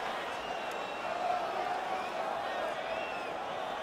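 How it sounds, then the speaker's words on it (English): A virtual arena crowd in EA Sports UFC 5 roars in a steady, broad wash of cheering and murmur between rounds of a fight, with commentary voices running over it. "So the crowd voicing its appreciation after that round."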